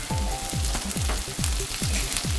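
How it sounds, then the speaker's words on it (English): Food with crushed red pepper sizzling in a hot pan, a continuous bright hiss overlaid by a regular series of low thumping strokes, close and loud. "Nice sizzle, huh?"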